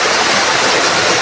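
A waterfall in Palawan, Philippines roars as a dense, steady broadband rush of falling water, loud and close, with no voices over it.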